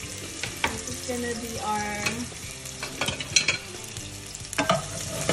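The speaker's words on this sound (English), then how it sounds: "I just added oil to our pot. I'm just gonna add the onion." Onion hits hot oil in a pot and sizzles steadily, with scraping stirs and clinks throughout and a brief spoken phrase over the frying.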